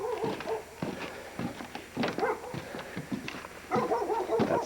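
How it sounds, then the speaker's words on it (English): Dog barking outdoors on a winter visit near a cave telescope site, a series of sharp barks and yips at moderate distance, repeated in uneven bursts. "That's the neighborhood mascot barking."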